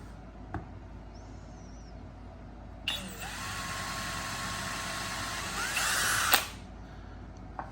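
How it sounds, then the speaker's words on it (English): A power drill bores a hole through a part for a weather balloon payload, whining steadily for about three and a half seconds and rising in pitch near the end before stopping, close and loud against a quiet room. "So my dad's going to go ahead and drill a hole."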